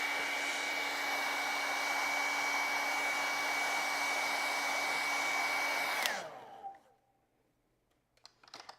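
A hair dryer blows steadily and loud for about six seconds to dry acrylic paint on a raven and pumpkin painting, then switches off and winds down, leaving near silence with a few faint clicks.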